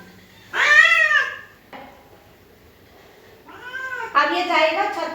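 A two-year-old pet cat, freshly bathed and upset, lets out two long, loud, drawn-out meows separated by a short pause, close to the listener, with faint household rustling in between.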